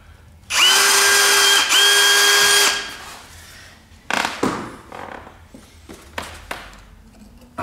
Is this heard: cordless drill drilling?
yes